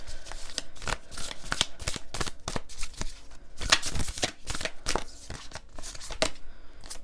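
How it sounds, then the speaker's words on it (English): Oracle cards are shuffled repeatedly, giving a string of crisp riffling bursts in an uneven rhythm, close up and fairly quiet with no talking. "I'm going to pull a couple oracle cards before I get started on this."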